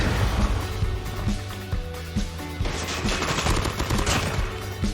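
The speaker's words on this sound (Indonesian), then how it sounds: "Mana lagi ada yang nembak?" Rapid bursts of automatic gunfire from a mobile shooter game like PUBG or CODM, repeated crackling shots and fusillades sounding loud and close with no talking.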